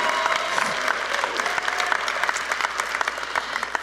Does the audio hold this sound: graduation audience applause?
yes